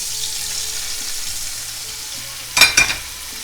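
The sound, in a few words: cabbage frying with garlic in a pan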